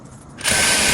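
A sewing machine stitching a 1 cm seam joining two pieces of a dress, starting abruptly after a quiet moment and running as a steady, close, continuous mechanical whir with no talking.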